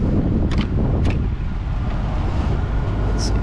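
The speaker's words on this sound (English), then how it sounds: "You can hear the exhaust." Exhaust of a 1990 Chevrolet Corvette, a steady low rumble close by, with faint clicks and a brief high chirp near the end.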